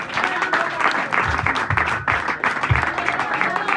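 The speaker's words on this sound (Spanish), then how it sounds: "Den un aplauso a Dios" A church congregation applauds loudly and steadily throughout, with irregular claps and crowd noise filling the room and some voices mixed in.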